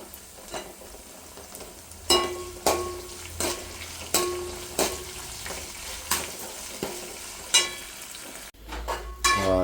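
Onions sizzle steadily in a hot pan with green chillies and curry leaves while a spoon scrapes and knocks against it in a regular rhythm, close and fairly loud.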